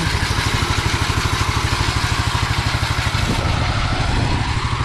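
A brand-new motorcycle engine idles close by with a steady, fast, even putter that runs unbroken throughout.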